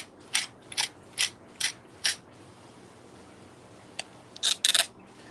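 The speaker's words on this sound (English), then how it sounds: "So what I use is just a pepper mill, and in that pepper mill, this pepper mill in particular is Northfin cichlid pellets veggie" A pepper mill grinds Northfin cichlid veggie pellet fish food, a series of close, sharp ratcheting cranks in spaced bursts, then a quick cluster of turns near the end.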